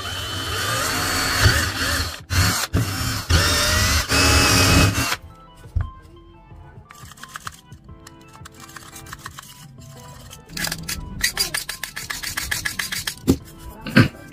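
A hole is drilled into the top of a recycled household item, a loud, continuous grinding rasp for about five seconds, then quieter scraping with scattered clicks and short bursts of renewed grinding.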